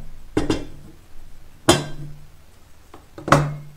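Three heavy metal cooking pots are turned over and clank down one after another at spaced intervals, each a loud ringing metallic impact that fades quickly.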